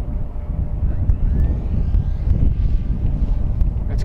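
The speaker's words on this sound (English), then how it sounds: "this is a short takeoff and landing airplane." An E-flite Draco 2.0 short takeoff and landing RC airplane flies in wind, its faint electric motor whine buried under heavy, steady wind rumble on the microphone.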